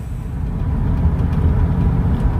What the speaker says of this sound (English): Let's see if it'll do a burnout.